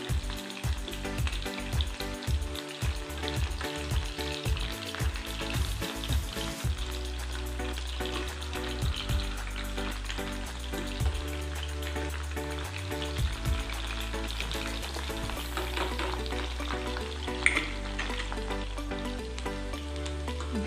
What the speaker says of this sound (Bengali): বেশ একটু লাল করে ভাজতে হবে।